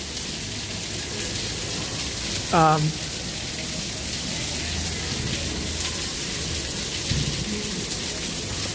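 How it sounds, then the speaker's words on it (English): Heavy rain pours at Epcot, a loud continuous hiss and patter on surfaces with a brief voice sound breaking through the downpour. "I can hear the rain really loud."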